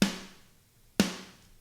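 Two isolated hits of a snare drum sample from a metal mix, each a crisp bright crack with a short decaying ring, spaced about a second apart, loud and dry.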